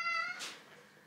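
A needy indoor cat gives a single short, clear meow, close by and fairly faint, fading into a breathy trailing sound.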